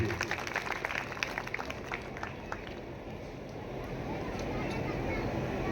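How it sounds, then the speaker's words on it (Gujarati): An audience applauds to welcome Rameshbhai at a ceremony honouring a school principal in Sanjeli taluka, with dense crackling claps at first that thin out into a steady hall murmur. "એવા રમેશભાઈનું જોરદાર તાળી પાડી સ્વાગત બધા આપણે કરીએ"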